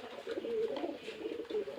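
A Giribaz pigeon coos softly and steadily nearby, a low continuous cooing with no other voices.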